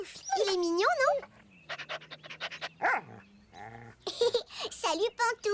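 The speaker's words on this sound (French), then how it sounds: "Oui, c'est vrai que c'est un très beau chien." A cartoon puppy from the French-language animated series Caillou pants in a quick rhythmic run and gives short whimpers, close and clear, alternating with lively character voices.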